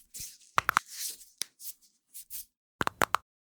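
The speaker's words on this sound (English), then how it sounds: "That is the sound of knuckles popping," Knuckles popping and cracking, a series of sharp close clicks and snaps in small clusters, separated by soft rubbing and shuffling hand sounds with short quiet gaps.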